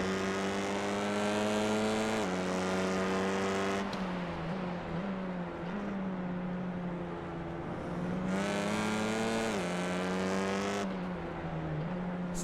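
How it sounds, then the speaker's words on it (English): Touring car engines from a TCR racing game round at Okayama roar loudly and continuously, with pitch rising and dropping through gear changes and several engines layered close together, no talking. "You can hear the roar of these TCRs and their single exhaust coming out the back."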